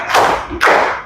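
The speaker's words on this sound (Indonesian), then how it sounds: "Tepuk semangat." A class of third-grade students claps in unison as part of a classroom clap chant, two loud, sharp group claps about half a second apart.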